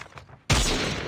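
A single sharp, loud sniper rifle shot in a competitive 1v1 video game match, cracking in suddenly after near quiet and ringing out with a sustained tail.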